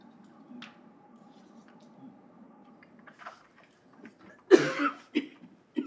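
A single close cough bursts out after a stretch of quiet, followed by a few softer throat sounds.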